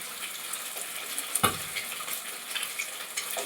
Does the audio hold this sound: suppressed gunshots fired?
no